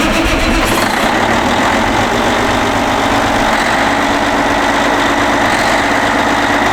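Four-wheel drive Challenger tractor weighing about 60,000 pounds, its engine cold-started at around freezing and settling into a steady, loud, rumbling idle that runs without a break and with no voices over it.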